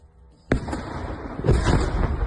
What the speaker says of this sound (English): It sounds to me like the sonic boom of an air defense missile and then its explosion onto a drone